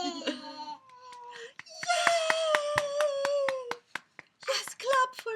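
A run of evenly spaced hand claps, around a dozen, with a voice and other talking mixed in around them.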